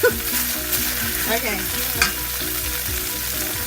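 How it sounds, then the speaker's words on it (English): Ground turkey frying in a skillet for skillet lasagna, a loud, close, continuous sizzle with stirring scrapes and clunks mixed in, and a brief word spoken at the start. "It's kind of sticky now, so I better get the meat in here."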